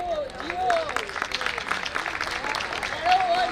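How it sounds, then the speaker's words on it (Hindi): Audience at a memorial lecture breaks into steady applause, a dense, sustained wash of clapping from many hands under a speaking voice that carries on over it. "जोरदार ताली।"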